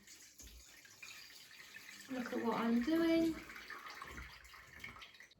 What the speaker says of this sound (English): You'll need a saucepan and a colander to drain your sweet potatoes off.